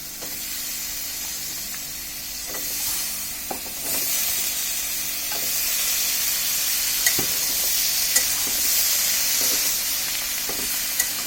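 Shrimp and drumstick stems stir-fry in a pan with a steady, even sizzle and hiss, broken by occasional light clicks and scrapes of stirring.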